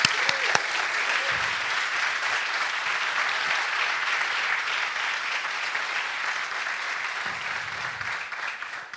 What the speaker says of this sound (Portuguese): Ele merece uma linda salva de palmas.